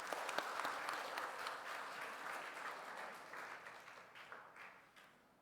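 Church congregation applauding grandparents at a Sunday service, a soft, fairly distant wash of many hands clapping steadily, then gradually dying away.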